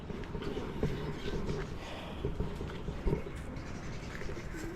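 Pigeons coo in a noisy Mirpur-1 bird market in Dhaka, low soft calls rising now and then out of a steady crowd hubbub, with a few louder bursts near the middle and end.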